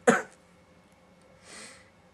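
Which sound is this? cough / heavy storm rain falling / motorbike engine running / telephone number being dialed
cough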